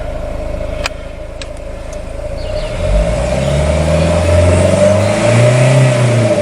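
A 2004 Vauxhall Vivaro van's 1.9 diesel engine idles with a steady hum close by, then revs up about two and a half seconds in and holds a deeper, louder drone.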